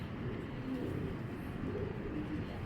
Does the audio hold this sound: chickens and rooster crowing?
no